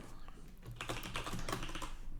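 Rapid keystrokes on a computer keyboard while writing code in Visual Studio 2019, a dense run of close, crisp clicks filling the whole stretch with no talk.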